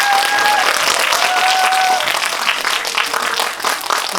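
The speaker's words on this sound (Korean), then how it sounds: "오늘 멋진 자리 만들어주신 전은혜 씨 그리고 감독님께 큰 박수 다시 한번 부탁드리겠습니다" An audience at a documentary film screening and talk session applauds the author and director with loud, steady clapping. A few high whistles or shouts are mixed in, and the applause fades slightly near the end.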